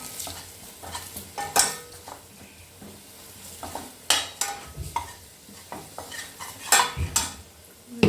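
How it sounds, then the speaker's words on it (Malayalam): Chicken curry masala with a little chili powder sautéing in a pan, a low steady sizzle broken by several sharp scrapes and clinks of a spoon stirring against the pot. "എന്നിട്ട് നന്നായിട്ട് വഴറ്റാം."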